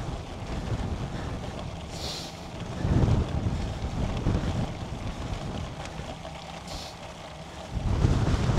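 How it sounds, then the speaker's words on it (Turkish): Gusty crosswind buffets the microphone in low rumbling surges that rise and fall while cycling uphill during a granfondo in Çeşme, with no voices. "Ama şimdi yükseldikçe rüzgar gelmeye başladı"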